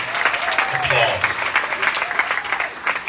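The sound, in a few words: audience applause for the mayor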